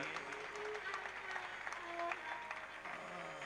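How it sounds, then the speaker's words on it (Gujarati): A large temple assembly breaks into loud, sustained applause, a dense wash of clapping that fills the whole moment with no break. "પૂજ્ય કોઠારી સ્વામી એક વખત જોરદાર તાળીઓનો ગડગડાટ કરીએ"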